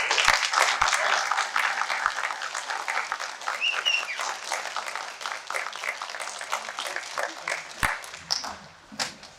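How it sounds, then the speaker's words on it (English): Family members of fire recruits are applauded at a spring graduation ceremony, a steady room-filling round of clapping from a seated crowd that thins toward the end, with a few scattered voices underneath. "Let's give them a round of applause."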